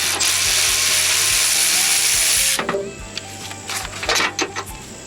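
A ratchet wrench backs a bolt out of a Chevy Express van frame rail, where it passes into the cross member. Sharp rapid clicking runs steadily and close for a few seconds, then gives way to scattered metallic clinks and handling noises.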